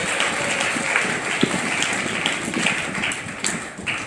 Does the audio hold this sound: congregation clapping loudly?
yes